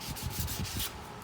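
A 400 grit sanding block rubbing over an aluminum Porsche rim in steady back-and-forth strokes, close and fairly quiet, with no voices.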